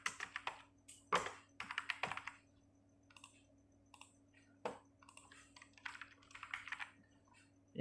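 Computer keyboard keys tapped in quick clustered bursts to enter a father's Aadhaar card number, with short pauses between runs of clicks, close and fairly quiet against a faint steady hum.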